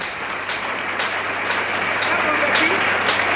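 A church congregation claps in steady, moderately close applause that builds slightly over a few seconds, with a voice talking underneath.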